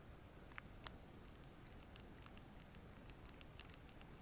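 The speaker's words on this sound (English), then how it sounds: "And you can hear it click there and started rattling." Faint, sharp metallic clicks from lock pins being picked in a Miwa E6 lock, starting sporadic and then repeating in a steady rhythm of small ticks, close up and quiet with no talking.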